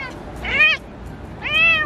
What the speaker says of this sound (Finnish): Oho, niin kuin se on kiva kisu.